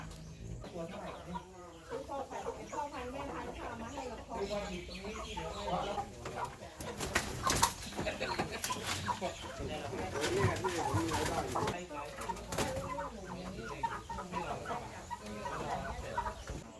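Free-range laying hens cluck and coo throughout, a busy flock sounding moderately near while someone talks over them at times.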